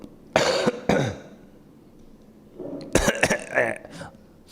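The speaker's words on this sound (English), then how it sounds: "okay, ugly coughing." A couple of harsh, explosive coughs near the start, then a quiet pause, followed by a burst of several more rough coughs and throat clearing, close by.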